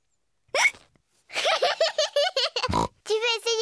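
George Pig, a cartoon piglet from Peppa Pig, lets out a single sharp voiced hiccup, imitated by a voice actor, between bursts of close animated dialogue.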